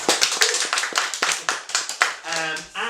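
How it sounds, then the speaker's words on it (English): Audience applause at a Dutch science fiction award reading event: a burst of hand clapping from a seated crowd, fairly close and steady, fading at the end as a voice begins. "Give him a round of applause"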